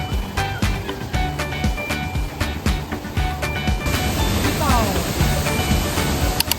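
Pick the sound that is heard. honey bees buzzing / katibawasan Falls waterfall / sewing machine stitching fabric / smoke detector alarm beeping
katibawasan Falls waterfall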